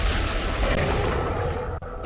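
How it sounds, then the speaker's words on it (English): A rocket launcher firing in the 1999 video game Resident Evil 3 Nemesis gives a heavy, sustained boom and roar that holds loud and then cuts off briefly near the end. "Get him with another rocket."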